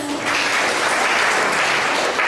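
Loud, sustained applause from a large audience at a Ghanaian community gathering in Tripoli, Libya, the many-handed clapping swelling quickly and holding steady as a near, continuous roar.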